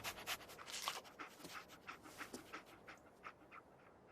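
Dogmeat, the dog companion in Fallout 4, pants in quick, soft rhythmic breaths, faint and close, with nothing else over it.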